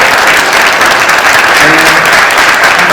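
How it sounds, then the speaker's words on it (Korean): Warm audience applause welcoming a philosophy professor at a public policy event, loud and dense clapping from a large crowd filling the room throughout, with faint voices underneath. "뜨거운 박수로 환영해 주십시오"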